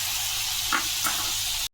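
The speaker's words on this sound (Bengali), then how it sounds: "পটলকে আমি ভেজে নেব।" Pointed gourd fries in hot oil, a continuous close sizzling hiss with a couple of soft clinks, cutting off abruptly.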